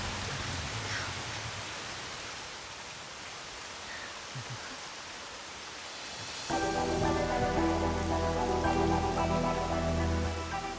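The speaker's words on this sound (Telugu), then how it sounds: "వర్షం చాలా చల్లగా ఉంది కదా." Steady rain falls with a soft, even hiss for several seconds before loud background music comes in and covers it.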